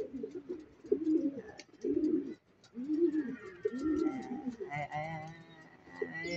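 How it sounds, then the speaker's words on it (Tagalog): Racing pigeons coo in a loft, low rhythmic throaty calls repeating close by, with someone speaking quietly over them toward the end. "Ayan mga kaibon, si Dirty Checkered no"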